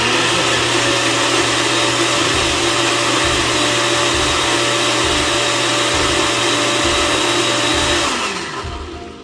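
A blender processes fire-roasted tomatoes with a loud, steady motor whir and a pulsing low churn, running continuously before spinning down at the end.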